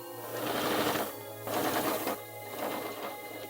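A sewing machine runs steadily after its bobbin has been re-threaded, a loud close mechanical whir with a low hum that swells and dips in three stitching bursts.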